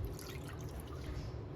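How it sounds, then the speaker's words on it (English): Water poured onto 1-inch cubes of cut goat liver, a soft, faint liquid splash and trickle running steadily for a moment, close and without any voices. "Add 1 cup of water"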